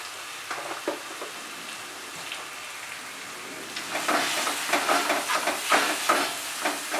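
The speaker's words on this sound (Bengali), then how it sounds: "মশলাটাকে কষিয়ে নেব" Spice masala of chilli powder, salt and sugar frying in oil for a rohu fish and pointed gourd curry, with a soft sizzle and scattered stirring scrapes that grow louder and busier in the second half, close by with no talk.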